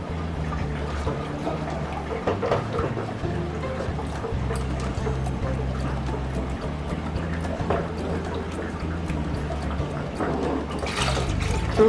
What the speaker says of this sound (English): Now I'm going to add this cream mixture in slowly.